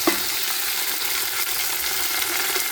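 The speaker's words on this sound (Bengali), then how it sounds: "আমি এখন এখানে আদা রসুন দিয়ে দেব" Ginger and garlic fry in a hot pan for vegetable khichuri, giving a steady, loud, close sizzle with faint stirring scrapes throughout and no voices.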